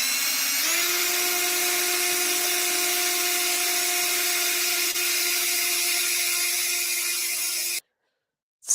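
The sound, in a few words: drill running backwards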